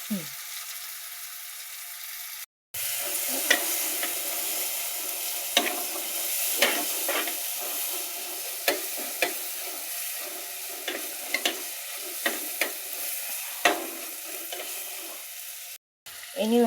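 Onion, green chili and tomato with curry leaves sautéing in a pan, a steady sizzle broken by repeated scraping stirs of a spoon, close and continuous.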